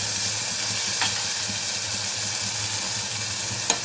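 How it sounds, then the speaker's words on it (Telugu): Cleaned fish sizzle and fry steadily in hot oil in a pan for a fish gongura curry, a loud continuous crackling hiss with a few faint clinks. "క్లీన్ చేసుకున్న చేపలు వేసుకోవాలి"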